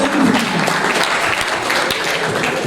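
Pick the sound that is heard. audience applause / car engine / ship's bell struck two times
audience applause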